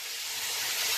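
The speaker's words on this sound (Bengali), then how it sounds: "জিরে আর তেজপাতা ফোড়ন দিয়ে আলুটা আর কপিটাকে ভেজে নেওয়া হবে।" Potato and cauliflower fry in hot oil tempered with cumin and bay leaf, giving a steady bright hiss that holds evenly and close for a moment, with no voices.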